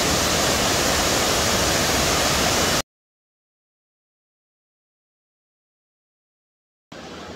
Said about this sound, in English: that's probably a 60-foot high waterfall